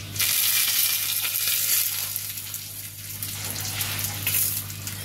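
Steady, crackling sizzle of curry leaves frying in hot oil with mustard seeds, loud and close, with a low constant hum underneath and no voices.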